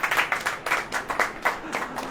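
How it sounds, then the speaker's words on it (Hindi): Rhythmic clapping at a church gathering, a steady series of evenly spaced claps, moderately loud and close, with little voice over it. "ताली बजाइए।"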